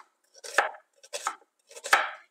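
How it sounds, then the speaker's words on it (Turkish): A knife cuts onions lengthwise on a board in three crisp, separate strokes, close and clear, with no speech. "Uzun uzun doğrarsanız bu yemekte daha güzel kendini gösteriyor ve erimiyor."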